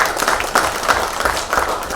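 A crowd at a Bhojpuri OTT platform launch event applauds loudly and steadily, a dense wash of clapping that continues without break for about two seconds.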